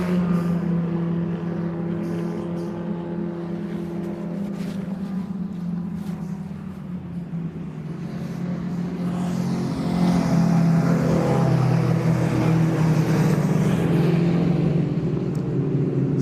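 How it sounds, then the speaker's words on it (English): Historic 750 Formula race cars at Mallory Park circuit stream past with a steady droning engine roar, swelling louder around the midpoint as the pack draws nearer, with wind buffeting the microphone. "The cars streaming their way around Mallory Park here."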